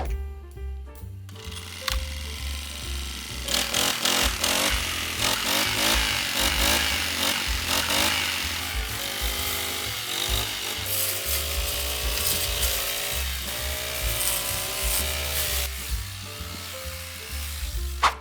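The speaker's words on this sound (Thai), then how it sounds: "เครื่องตัดหญ้า4 จังหวะตัวนี้นะครับของตัวมิสูตัวนี้นะครับ" A Tomitsu TMS35 four-stroke brush cutter engine buzzes loudly and continuously up close, its pitch wavering as it revs up and settles back down.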